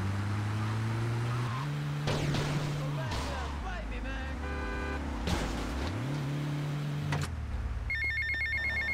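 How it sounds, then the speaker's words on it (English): A phone rings in the GTA Vice City video game, its repeating electronic tone arriving near the end over game engine drone, music and other in-game noise. "We have another phone call."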